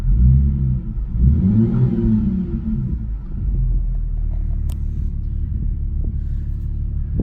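A salvage Audi A5 engine is revved once, rising to a deep, loud rumbling surge and then settling back to a steady idle with a few faint clicks, heard close with no talking.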